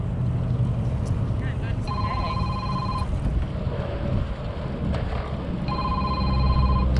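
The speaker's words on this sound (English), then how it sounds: "Now that I start riding, the phone rings." A mobile phone rings twice in short repeated electronic bursts during a bike ride along the beach in Los Angeles, heard over steady wind and road noise.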